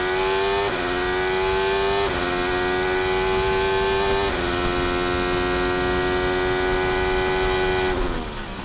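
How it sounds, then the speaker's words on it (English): Formula 1 car at full speed on a pole position qualifying lap, a loud, continuous high-pitched engine scream rising through each gear and dropping sharply at every upshift, with no talking over it. "This is Carlos Sainz on a pole position lap last year."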